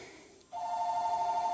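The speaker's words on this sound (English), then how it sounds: "There goes the phone." A telephone starts ringing partway through, a sustained electronic two-tone ring that is clear and moderately loud against a quiet room.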